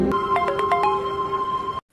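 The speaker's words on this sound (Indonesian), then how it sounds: "Tiba-tiba notifikasi dari HP ayah Pradev berbunyi" A phone notification chime rings out loud and close, a quick run of bright tones settling into one sustained tone before it cuts off abruptly, with no other sound around it.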